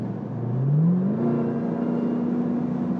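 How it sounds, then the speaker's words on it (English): A car accelerating on the road to pass a truck, the engine note rising steadily over the first second then holding a sustained, even drone under constant road noise. "let me go ahead and pass this truck"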